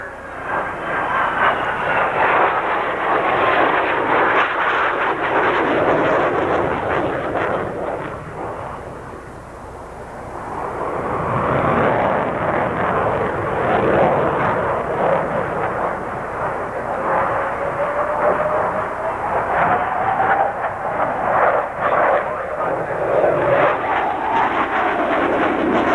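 A military jet at the 1992 Bowling Green Air Show flies a tight 360-degree level turn, its engine a loud sustained roar that swells, dips briefly mid-turn, then rises again with a shifting whine, heard from the ground.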